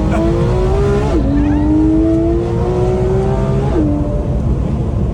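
A Porsche GT3 RS or BMW M5 driven hard on a winding road near St. Tropez, engine pulling high in sustained runs with two sharp downshift drops, loud and close.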